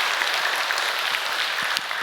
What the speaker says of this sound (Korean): 감사의 박수를 한번 크게 올려드림으로써 시작하면 좋겠습니다